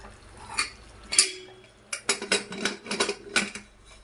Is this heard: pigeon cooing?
no